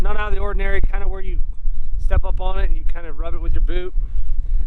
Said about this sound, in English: Big gusts of wind here. Sorry if the audio is off.